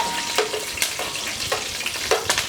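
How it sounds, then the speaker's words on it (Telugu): Fish pieces frying in a pan for a home-style fish curry give a steady, close sizzle, broken by a few sharp stirring or scraping bursts at regular intervals, with no voices. "దీన్ని బాగా ఫ్రై చేసుకోవాలి."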